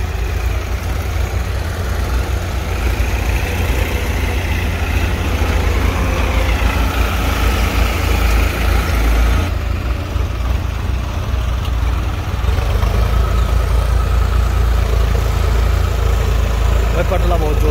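A Farmtrac 45 HP tractor engine with a DCM block runs loud and steady outdoors, a continuous low rumble throughout, with people talking over it.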